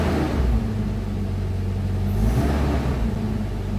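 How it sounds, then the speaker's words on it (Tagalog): Gas 2TR engine of a Toyota Fortuner revved up while parked, a loud, deep rumble that swells through two throttle blips and then settles back toward idle. "So try nating i-rev kung ano responsive yung throttle."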